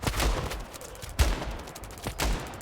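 Three sharp, booming gunshots from the mobile shooter game Standoff 2, spaced about a second apart, each with a short fading tail over a low background.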